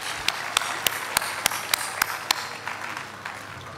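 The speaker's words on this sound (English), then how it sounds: "Please give her a huge round of applause." A school ceremony crowd gives sparse, ragged clapping for student Sheen, an editor-in-chief and Interact Club president, with a few sharp, evenly spaced claps standing out before the sound thins and fades.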